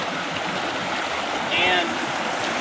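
A forest stream on New Zealand's South Island flows steadily in a broad, continuous wash of water noise, close and fairly loud. A brief bird call enters midway.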